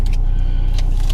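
Interior cabin sound from a moving car: a low steady engine hum fills the space while a few faint light clicks and jingles come and go.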